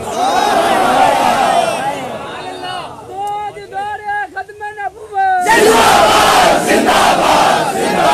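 A rally crowd in Sheikhupura roars religious slogans in loud unison, pauses while a single amplified voice leads a chant line, then answers again in a massive collective shout.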